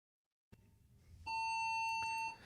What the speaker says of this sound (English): sorry, I think my smoke alarm's going off here.